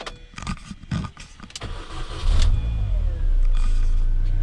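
A Mini Cooper's engine cranks and fires after a fuel system repair: a few clicks and thumps, then the engine catches with a surge and settles into a steady, close idle.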